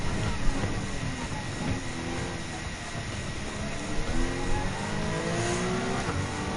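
Race car engine in the Gran Turismo 7 racing game, a Mazda 3 Group 4 among the field, droning steadily at high revs with shifting pitch sweeps under a dense, continuous roar.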